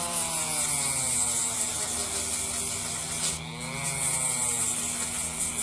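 A Dremel rotary tool grinds steadily over a clothing pocket to distress and fade the fabric, giving a continuous close buzzing whine that holds constant with a brief dip midway.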